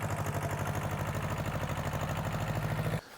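Tractor engine running steadily on a farm in central Portugal, a loud, continuous mid-pitched chug that cuts off abruptly near the end.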